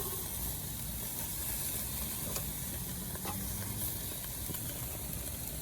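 Wagyu steak sizzling on a grill just after being flipped, a steady broadband frying hiss with faint pops and crackles throughout, quiet and without speech.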